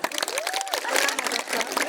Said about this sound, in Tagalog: magpalakpak na tayo sa Panginoon